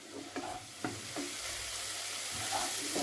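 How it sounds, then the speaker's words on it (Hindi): Spice paste for palak paneer sizzles and fries in a pan, with a few soft scraping stirs of a spoon; fairly quiet and close, no talking. "अब हम इसे मसाले को भून लेंगे"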